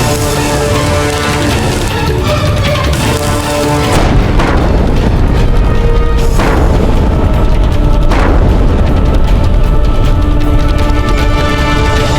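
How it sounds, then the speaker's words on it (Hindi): Deep booming cannon blasts ring out in a battle scene over a constant, busy background, with a few heavy thuds spaced several seconds apart. "चलाओ तोप"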